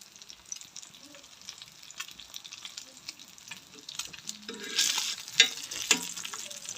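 An egg frying in a pan for a home breakfast, the yolk left soft; a quiet, sparse crackle and sizzle with occasional utensil clicks, swelling briefly louder toward the end.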